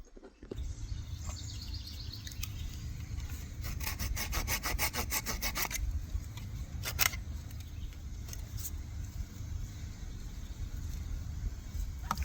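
A hand saw cuts and rounds off branch stubs on a homemade wooden walking stick outdoors in the shade, a quick run of rasping strokes followed by slower scraping under a steady low outdoor hum.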